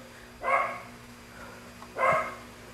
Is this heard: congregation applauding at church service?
no